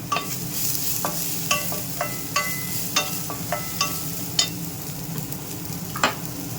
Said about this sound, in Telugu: చాపర్లో వేసుకున్న బీర ముక్క పొట్టుని ఇందులో వేసేద్దాం